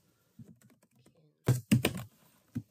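Keys on a computer keyboard clatter in a quick cluster of close, crisp taps followed by a few isolated strokes, entering code during a data science coding session, with brief soft speech before the typing.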